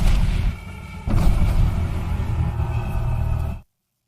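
A film explosion rendered as a loud, sustained rumbling boom, with a second heavy surge hitting about a second in, rolling on for several seconds before cutting off abruptly.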